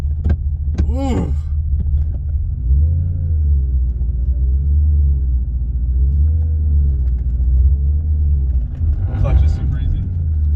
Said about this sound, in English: Ooh, exhaust is good.